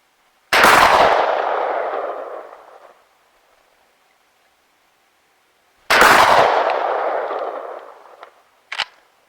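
Two heavy 12 gauge shotgun slug blasts fired at a long-range target, each a loud boom with a long rolling echo fading over a couple of seconds, followed by a brief metallic click.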